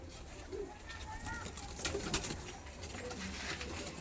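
Pigeons coo softly in a loft at a bird sale, their low calls steady under background noise and occasional nearby talk.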